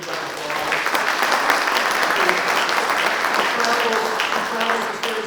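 A room full of people at a Wise County conservative political gathering claps in a dense, continuous round of applause that stays loud and even throughout, with faint voices mixed in.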